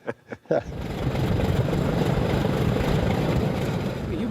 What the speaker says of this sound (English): So what does it feel like when you're in there and you start up all 4 of these engines?